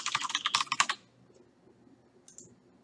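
Quick typing on a computer keyboard while entering code, a close rapid burst of key clicks lasting about a second, then near silence with one faint click later.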